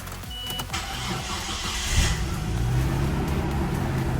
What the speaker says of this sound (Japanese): スカイラインの音だよね、